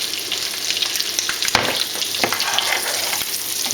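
Wild barramundi fries loudly in hot oil with herbs, a dense continuous sizzle and crackle while a spoon bastes it, with occasional brief clicks of the spoon against the pan.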